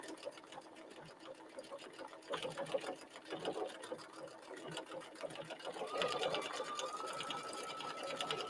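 A sewing machine stitches fabric in a straight line, its needle running in a fast, even rattle that picks up speed partway through. It sounds close and fairly quiet, with a faint voice in the background.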